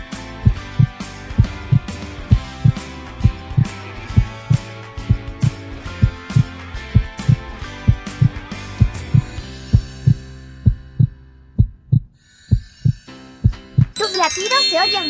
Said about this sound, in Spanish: Los latidos se oyen fuertes y saludables.